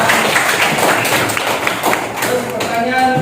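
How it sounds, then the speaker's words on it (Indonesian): A classroom full of students clapping for a classmate, a dense burst of hand claps filling the room, loud and close, with voices mixed in. "tepuk tangan buat Kilau"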